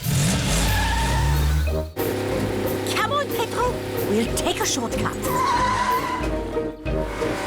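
A cartoon car drives and skids, with revving engine and tire squeals running under children's-show dialogue and voices throughout.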